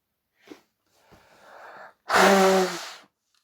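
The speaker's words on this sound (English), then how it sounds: "Sorry, I gotta blow my nose" A short sniff, then a wet rustle of breath and one loud, honking nose blow up close, trailing off into quiet.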